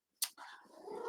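A pet cat lets out a single close meow, a short sharp onset sliding into a drawn-out, slightly rising wail, alone with no talk.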